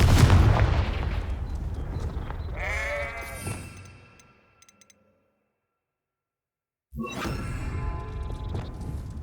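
A Confringo blasting curse explodes in the game Hogwarts Legacy: a loud fiery burst with a crackling, whooshing tail that fades into near silence before the game's sounds return loudly.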